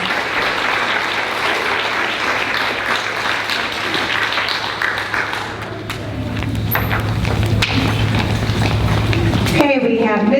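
Steady applause fills a room at an elementary school fifth grade celebration, many hands clapping continuously for several seconds before fading out as a voice begins to speak.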